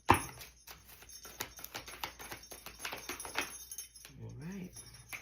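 Tarot cards being shuffled by hand, a quick run of soft riffling flicks and taps close up, followed by a person speaking briefly at the end.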